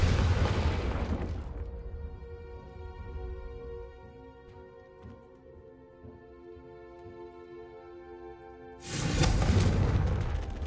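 A Confringo fire spell blasts in the Hogwarts Legacy video game: a loud, broad burst opens, steady tonal game ambience follows, then a second heavy fiery explosion erupts near the end.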